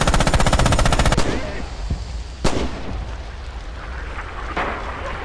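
Rapid machine gun bursts in the World War II shooter Red Orchestra 2, a fast loud rattle for about a second, followed by sharp single shots and distant battle rumble.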